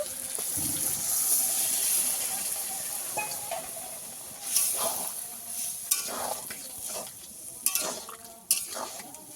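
Boiled peas for ghugni are stir-fried in a pan, giving a steady close sizzle with scraping spatula strokes and a few sharper clinks toward the end, with no voices.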